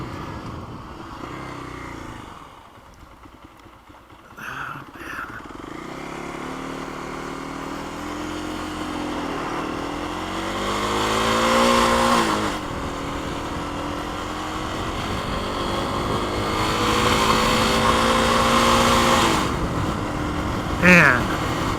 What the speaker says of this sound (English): I can't live with a bike that runs like this.